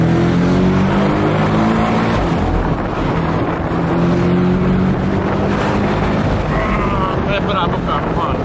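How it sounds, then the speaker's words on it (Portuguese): Porsche sports car accelerating, a loud sustained engine drone with shifting tonal pitch and heavy wind noise buffeting the microphone throughout, recorded from close by. "acelerando. É brabo o carro, mano."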